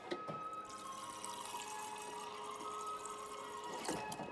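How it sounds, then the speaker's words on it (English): Video game tap running to fill a glass of water, a faint steady trickle and splash with soft clunks at the start and near the end, without any talk. "I'm gonna go get myself a glass of water then."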